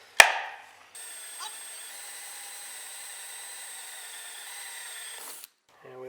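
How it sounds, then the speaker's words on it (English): A power drill bores a hole while fitting a flush mount on a kayak: a sharp knock, then a steady whining drone held for about four and a half seconds before it stops, with a brief voice at the end. "So we're going to drill."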